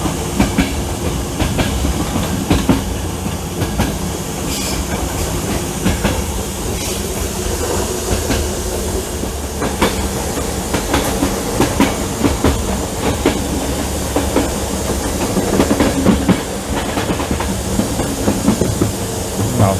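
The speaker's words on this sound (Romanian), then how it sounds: "Acolo o să fie locomotiva noastră, aia." Seasonal train with locomotive running into Constanta from Medgidia, a continuous close rolling roar with steady clickety-clack of wheels over rail joints and occasional hissing, no voices.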